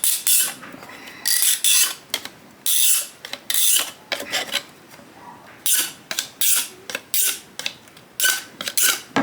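A hand tool is rubbed around the edge of a hole in HIPS plastic to cut a 45 degree chamfer, producing loud, close rasping scrapes in repeated strokes with brief pauses between them.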